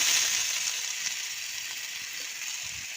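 Ginger, garlic and onion paste with green chilies frying in a pan gives a soft, steady hiss of sizzling that fades slightly over a few seconds.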